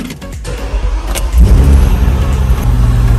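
A wrecked Bentley that will not run and shows a low-battery warning cranks: clicks and small rattles first, then a loud, low engine rumble rises and holds steady close by, with no speech.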